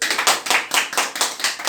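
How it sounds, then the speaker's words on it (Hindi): An audience at a spiritual discourse by Sant Rampal Ji claps in a quick, even rhythm of sharp bursts, loud and close, with no voices over it. "जोरदार ताली होनी चाहिए।"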